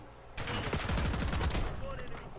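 Rapid bursts of automatic gunfire in a shooting video game break out suddenly after a quiet moment and rattle on loud and dense for about two seconds before easing off.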